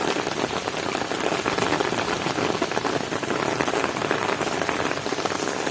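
Heavy rain pours down in a dense, hissing wash of drops hitting surfaces, loud and continuous from start to end with no talk.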